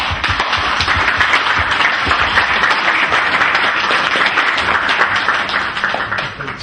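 Audience applause at a French-language book launch in Brussels, dense and sustained clapping from a crowd that holds steady throughout with no talk over it.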